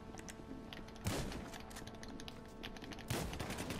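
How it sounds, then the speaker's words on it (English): Combat machine gun fire in a GTA 5 Online deathmatch: a steady rattling stream of shots punctuated by two louder, heavier bursts, with constant game noise and no talking. "Take this combat MG!"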